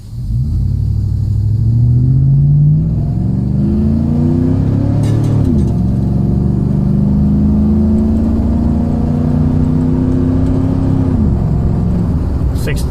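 A 2006 GMC Sierra pickup with a 4L60E transmission, a Corvette servo and 35-inch tires accelerates hard at three-quarter throttle, its loud, close engine drone climbing in pitch through gear shifts.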